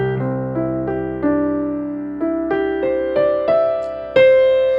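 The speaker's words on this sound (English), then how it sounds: "I'm going to use my sustain pedal to sustain these notes, and it may sound something like this" A piano plays a rising gospel-style arpeggio with the sustain pedal held, about a dozen notes struck in a steady pulse that ring on and blend together, close and clear with no voices.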